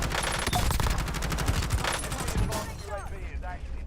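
An MP 40 submachine gun in the Warzone video game fires rapid, continuous bursts for a few seconds, loud and dense, before giving way to quieter game sounds.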